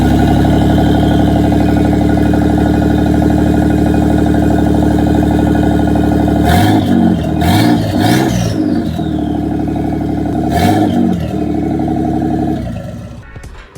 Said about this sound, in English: get a quick startup of the car so you guys can go ahead and hear what it would sound like